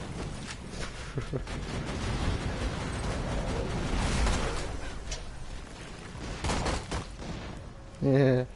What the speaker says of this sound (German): Wow! Explosion!